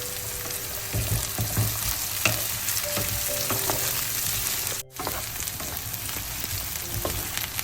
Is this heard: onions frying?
yes